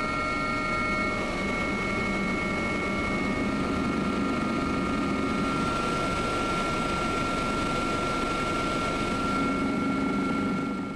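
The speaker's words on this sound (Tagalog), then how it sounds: "isang oras kaming nakasakay sa helicopter." Continuous loud rotor and engine drone inside a helicopter in flight over the sea near Palawan, a steady, unbroken roar with a faint high whine throughout.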